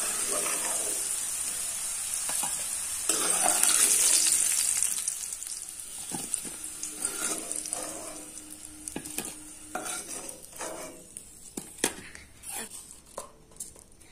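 Half a spoon of whole cumin seeds crackles in hot oil for a banana flower curry, with a loud close sizzle at first that eases into quieter frying and sharp clicks of stirring.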